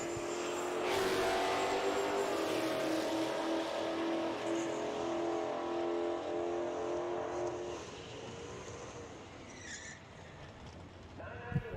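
Drag racing Mustangs, an S550 chassis Mustang and a 2007 Mustang, launch at an NMRA Spring Break Shootout. A loud, sustained engine roar climbs in pitch for several seconds, then fades as the cars pull away.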